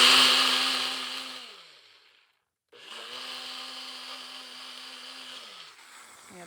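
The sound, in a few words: blender emulsifying nuts, garlic and tamarind for pad thai sauce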